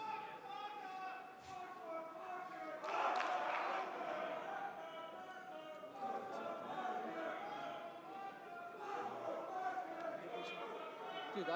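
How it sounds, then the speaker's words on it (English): A large arena crowd at the BLAST R6 Copenhagen Major esports finals chants and cheers in rhythmic surges, heard at a distance and fairly faint, with voices mixed into the roar. "Might as well let you bathe in the crowd chants."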